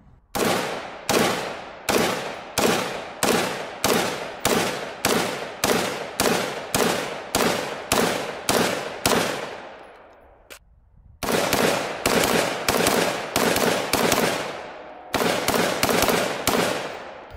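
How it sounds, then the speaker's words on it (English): Rapid semi-automatic gunfire from an AR15 patrol rifle at an outdoor range, about twenty evenly spaced loud, close shots in two long strings, a short pause, then a final burst, with no talking. "Let's shoot it some more."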